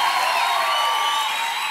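A church congregation applauds and cheers in praise of God, a dense, steady wash of clapping and crowd noise at full loudness throughout, with no distinct individual claps standing out.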